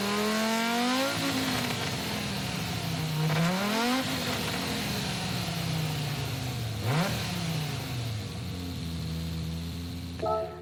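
A 1978 Pontiac Firebird Trans Am with a swapped engine in Gran Turismo 7 revs loudly and continuously, pitch climbing and dropping through several gear shifts with a sharp rev spike near the end.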